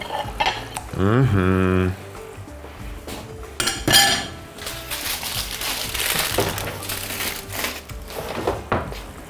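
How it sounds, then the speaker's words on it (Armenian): Pieces of meat in broth being set into a roasting pan for a red wine sauce dish, with clinks and scrapes of utensils against the pan, a brief loud rattling burst early on, then steady clattering and stirring noises close by. "միսը տեղադրում ենք տապակի մեջ"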